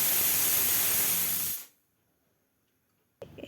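A pressure cooker holding fish head, water, salt and turmeric lets out a loud, steady steam hiss for about a second and a half, then cuts off abruptly into near silence before a faint clatter.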